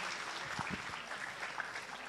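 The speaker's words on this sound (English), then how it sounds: "A round of applause for the second batch of students." An audience at a school cultural evening claps for a batch of student performers, a steady wash of moderate applause that continues throughout.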